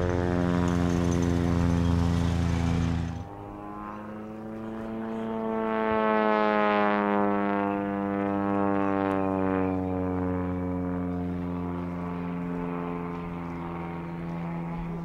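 A red and white Citabria light aircraft's engine hums close by in front of an airport terminal, its steady tone rising and falling as the propeller pitch and power shift, with a louder broadband burst at the start.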